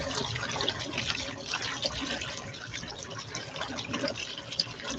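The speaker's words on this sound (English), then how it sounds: "turn up the water a little bit" Steady gushing water runs through a 50 lb North Lynx gold sluice over big rocks, a continuous loud broadband rush with no talk.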